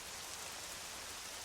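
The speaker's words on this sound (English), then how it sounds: "You see the rain?" Steady rain in Arma 3 hisses evenly and continuously, a dense wash of falling drops with no voices or other sounds.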